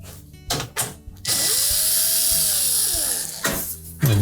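A power drill backs out 1/4 inch hex head screws from the access panel of a GE range, whirring in a steady high-pitched run of about two seconds, with shorter bursts and a few clicks and knocks before and after.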